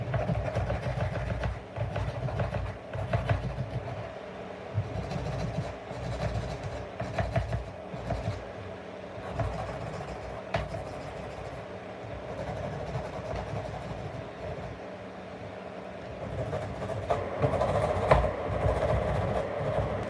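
A small electric nail dust collector at low speed hums and whirs steadily while press-on nails are filed by hand. Uneven scratchy rasping from the filing is heard close up over a continuous motor drone.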